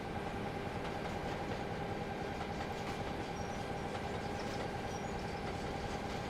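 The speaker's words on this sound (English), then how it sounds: "I should play one of these clips of the carriages coming past for Jasper from Rivet and go, this is what carriages sound like, mate" Train carriages rolling past on rails in the Trainz game on an Australian route, a steady distant rumble with faint rhythmic clicking and a constant hum, unchanging for several seconds.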